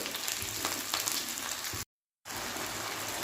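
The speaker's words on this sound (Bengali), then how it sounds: "এখন আমি টমেটো কুচিগুলো দিব আর লঙ্কাটা একটু ভালো করে ভেজে নেব" Chopped tomato and chili fry with onion in hot oil, giving a dense, steady sizzle that cuts out briefly to silence before the hiss resumes.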